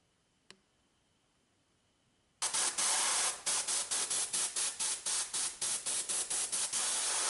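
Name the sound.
spray can spraying solder mask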